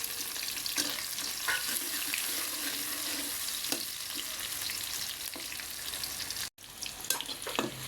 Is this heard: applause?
no